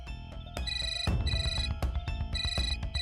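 A mobile phone rings with an incoming call, its electronic ringtone repeating in bright, evenly spaced bursts close by, with background music underneath and no talking.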